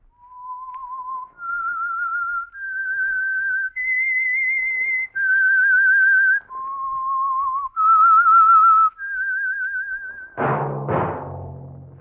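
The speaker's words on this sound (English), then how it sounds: "That whistle is your signal for the Signal Oil Program, The Whistler." A lone whistler performs the eerie theme tune of The Whistler radio mystery program, a slow melody of sustained clear notes, loud and close, that ends in a brief burst of orchestral sound.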